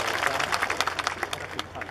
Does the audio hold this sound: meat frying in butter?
no